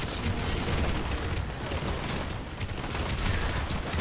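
A bomb blast in Planetside 2 booms into a dense, rumbling barrage of explosions and gunfire, loud and sustained with no clear single impact.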